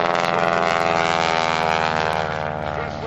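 A propeller aircraft flown by John Mohr in an aerobatic barnstorming display, trailing smoke from its exhaust stack, gives a steady, loud, harmonic engine drone with a throbbing buzz that holds level throughout.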